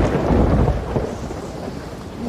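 Thunder from a lightning strike in a video game rumbles heavily and loudly at first, then rolls off into a softer, rain-like wash over about two seconds.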